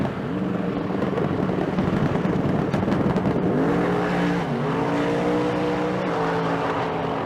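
A Falcon drag race car at the Street Car Super Nationals in Las Vegas roars down the track, engine note climbing and shifting, loud and continuous under the track's ambient din.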